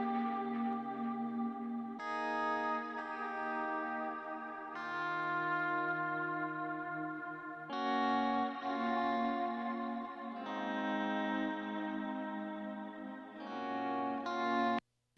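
A guitar part played through a Rockman from a track rings out in sustained, shimmering chords with chorus and echo, heard isolated and full with no voices.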